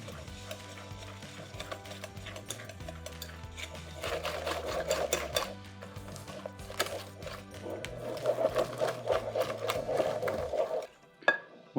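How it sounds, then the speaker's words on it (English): Sugar and egg yolks being beaten together in a large bowl for a Cipriani meringue cake, a steady mechanical mixer whir with rhythmic clatter running for about ten seconds before stopping, with a couple of clinks at the end. "let's combine together the sugar and the egg yolks"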